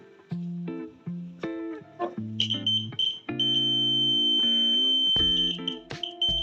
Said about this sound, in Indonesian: Alat ini akan berbunyi ketika ada getaran yang ditimbulkan dari luar.